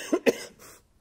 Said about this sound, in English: I get over this coughing fit.